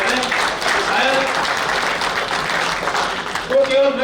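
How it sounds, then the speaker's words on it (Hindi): Audience applause for blood donors at a blood donation event in Jaipur, a steady wash of clapping throughout, with a voice briefly rising over it near the end. "हम हृदय से उनका तालियां बजाकर अभिनंदन करें।"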